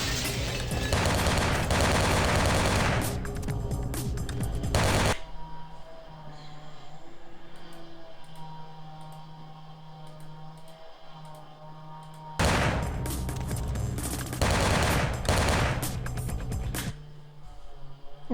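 Heavy gunfire in the video game Vampire The Masquerade Bloodlines, two loud sustained bursts of rapid automatic shots separated by a quieter stretch of low humming ambience.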